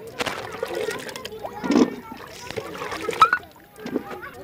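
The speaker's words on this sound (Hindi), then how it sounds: "तो प्याज को हम धो लेते हैं।" Onions being rinsed in water in a home kitchen while preparing paneer curry, puris and boondi, giving a few short splashes and sloshes, with a voice and other speech in the background.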